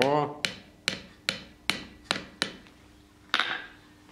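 Tiny nails hammered by hand in a smithy: a steady run of eight sharp, close metallic taps at roughly half-second intervals, with a brief pause before the last strike.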